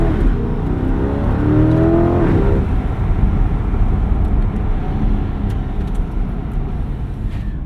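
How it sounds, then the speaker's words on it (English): A 2025 Chevrolet Corvette Stingray's sport exhaust drones steadily from inside the cabin, a loud, continuous low rumble with a brief rising rev tone early on before settling into an even cruise. "We should play the noise of the Sport exhaust just slightly."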